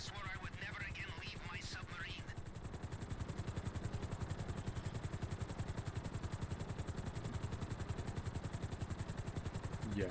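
Steady, rapid rotor chop of a helicopter in flight in GTA Online, loud and constant throughout with a low throbbing engine drone, accompanied by a few faint game effects early on.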